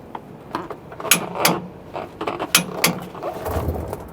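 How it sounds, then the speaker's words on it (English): Torque wrench tightening the bolts on a Roadmaster Exact Center steering stabilizer: close, irregular metallic clicks and clanks with short bursts of ratcheting, in quiet surroundings with no talk. "now we've got our big torque wrench on there so we can reach the spec from the manufacturer, and we'll just get it torqued on down."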